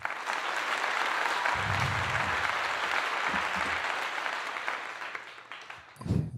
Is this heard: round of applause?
yes